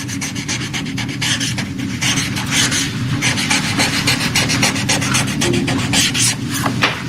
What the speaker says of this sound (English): That's the sound of Donald Trump's pen.